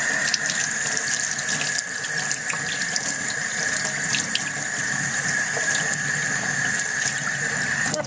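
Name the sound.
tap water rinsing sweet peppers and hands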